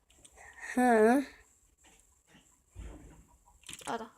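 A Minecraft chicken clucks loudly once in a short, rising burst, followed by quieter game sounds and another brief squawk near the end.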